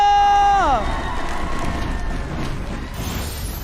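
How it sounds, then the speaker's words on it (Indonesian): An esports arena crowd at a mobile legends match roars and cheers continuously, a broad, sustained wash of voices after a falling synth tone fades out at the start. "So MPL Arena, mana tepuk tangannya?"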